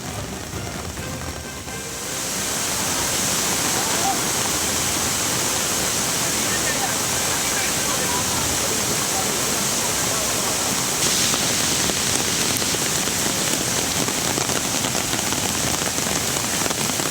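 Heavy rain pours steadily in the forest at Athirappilly beside the overflowing Vachumaram stream, a dense unbroken roar of water that swells after a softer opening and stays loud throughout.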